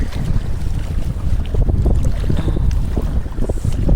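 Strong wind blusters over the microphone on a small fishing boat at sea, a loud continuous roar with gusting rumble and water washing against the hull, no voices.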